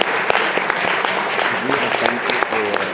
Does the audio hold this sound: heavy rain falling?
no